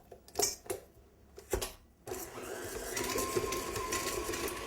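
Electric mixer creaming butter and sugar: a few short mechanical bursts and clatters at first, then a steady whirring hum with a faint rattle that continues to the end.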